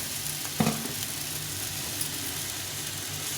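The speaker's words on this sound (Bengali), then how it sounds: "এটা দিয়ে এটাকে ভালো করে আবার ভেজে নেবো।" Vegetables for shukto, including beans, frying in a pan with a continuous close sizzle, broken near the start by one sharp scrape of a spatula.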